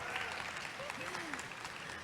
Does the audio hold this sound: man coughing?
no